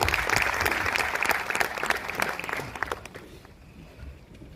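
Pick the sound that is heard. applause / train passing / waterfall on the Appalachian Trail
applause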